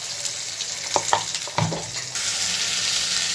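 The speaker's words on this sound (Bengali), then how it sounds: "রসুনটা একটু ভাজা ভাজা হওয়ার পর একটু পেঁয়াজটা" Garlic and onion fry in a pan with a steady sizzle throughout, broken by a few clinks of stirring near the middle, and the hiss grows louder and denser in the last second and a half.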